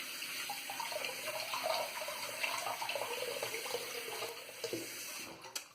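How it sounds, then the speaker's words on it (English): Tap water runs steadily into a sink while hands are rinsed beneath it, a soft continuous splashing hiss with small fluctuations and a brief clatter near the end. "So, just rinse my hands really quick."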